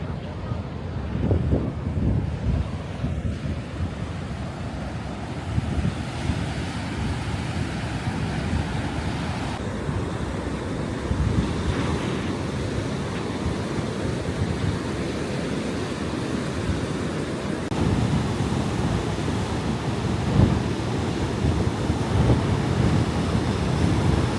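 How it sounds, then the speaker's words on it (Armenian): Strong ocean waves surge and break on the Portuguese coast under gusting wind buffeting the microphone, a continuous loud roar throughout. "նենց ուժեղ ալիքներ են"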